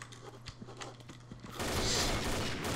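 Bursts of video game gunfire crackle in quick succession, then give way to a louder, sustained blast of noise near the end.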